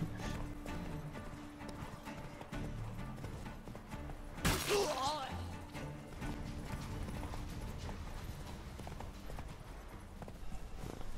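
Horse hooves clip-clopping in The Witcher 3, a steady close rhythm of clopping steps with a sudden sharp crash midway, game ambience underneath and no talk.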